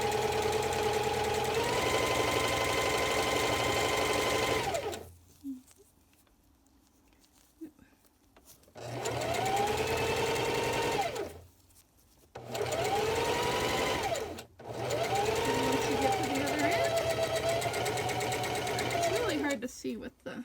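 A sewing machine stitches a double-layer fitted cloth face mask in three loud, steady bursts separated by pauses, with a voice speaking between and over the runs.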